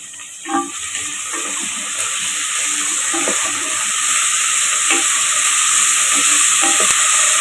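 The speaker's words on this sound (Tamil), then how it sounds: "ஒரு 5 நிமிஷம் வதக்கட்டும்" Onions, taro root and mutton sauté in a hot pan for mutton kara kuzhambu, giving a steady loud sizzle and hiss with occasional stirring clicks and scrapes throughout.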